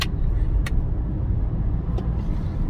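Car traffic rolls along a road in a steady, loud rumble, with a couple of brief sharp clicks and no talking.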